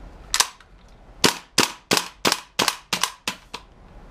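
An airsoft gas blowback gun running on HPA fires eight sharp, loud cracks, two spaced apart and then a quicker run of six. Each shot is close and distinct, with no voices between them.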